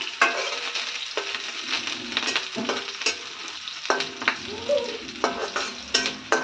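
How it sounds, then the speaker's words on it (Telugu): Chopped onions frying in a pan for a drumstick-leaf moong dal curry, a steady close sizzle broken by repeated scraping stirs of a spoon against the pan, with no talk. "కొద్ది వేగనివ్వండి ఉల్లిపాయలని"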